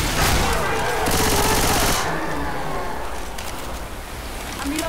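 Gunfire in the zombie shooter Left 4 Dead 2, a dense, loud burst of rapid automatic shots that cuts off after about two seconds, followed by quieter scattered game noise.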